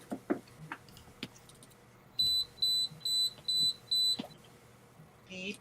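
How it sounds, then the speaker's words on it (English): A Kaiweets KM601 digital multimeter on a workbench gives out a run of five short, evenly spaced electronic beeps, clear and close, with a few faint clicks and handling sounds around them. "Beep, beep, beep,"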